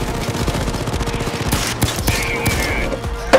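Pistol gunfire in the heist game Payday 2 at the First World Bank, a steady run of rapid shots amid a dense, chaotic firefight with layered game noise.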